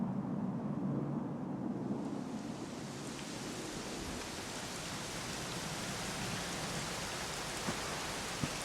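Rain falls steadily in Dragon Quest XI in a dense, even hiss that swells after the first couple of seconds, with an occasional drop standing out.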